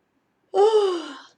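A single long, breathy yawn with a voiced tone that slowly falls and fades, close and alone.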